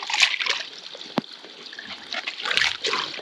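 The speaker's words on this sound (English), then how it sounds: "we want the water flowing over this" Shallow water trickles and splashes steadily over a stream bed during a tropical storm, a continuous close babbling with small splatters and one sharp knock partway through.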